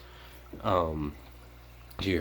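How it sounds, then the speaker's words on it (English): Water swirls and gets sucked down inside a homemade 5-gallon bucket canister filter, making a noisy gurgling slurp that rises and falls over about half a second, pauses, then starts again. The sound is close and fairly loud. "I don't think it'll be able to cyclone around and suck water down, which is what's making all that racket right now."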